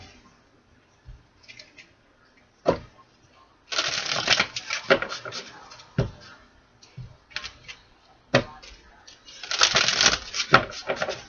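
Tarot cards are shuffled by hand in soft riffling bursts and scattered taps, louder in two short flurries, close and clear with little else around.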